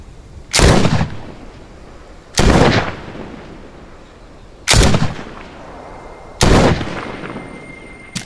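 Four loud, sharp handgun shots from a .45 in The Walking Dead: Saints & Sinners, spaced about two seconds apart, each a hard crack with a short decaying tail, no talking between them.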